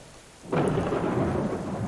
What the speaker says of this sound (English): A rainy day with a thunderstorm